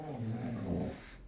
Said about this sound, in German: Adris, das ist ein Hund, der versteht dich doch nicht